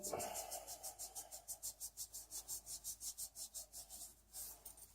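Fingertip rubbing medical tape down over skin on a surgical incision, a fast rhythmic series of soft scratchy strokes, close and quiet, with no talking.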